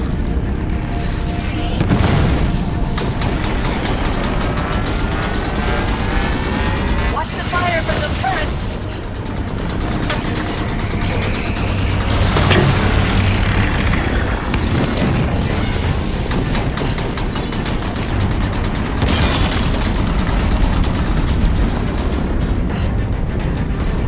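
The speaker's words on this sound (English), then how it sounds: "Fire from those turrets!" Phaeton turret fire and explosions in the video game Halo: loud, dense bursts of shots and booming blasts roll on continuously, with a voice now and then underneath.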